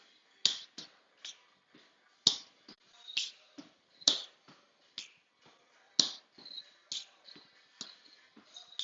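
Sharp finger snaps ring out irregularly during a Parkinson's exercise class, a dozen or so crisp, close clicks spaced by brief pauses, with faint soft taps between them and no talking.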